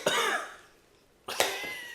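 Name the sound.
cough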